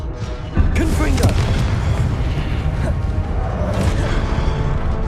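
A Confringo fire spell blasts in Hogwarts Legacy, a loud booming burst that hits about half a second in, then rolls into a sustained roaring rumble with whooshing effects layered through the rest of the moment.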